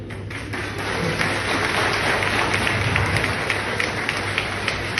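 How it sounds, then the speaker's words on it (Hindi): A school audience at a Teachers' Day stand-up show claps loudly for the performer, a thick, sustained roar of hands that swells slightly after the first second and holds steady, close and full. "तो एक बार जोरदार तालियां मेरे लिए।"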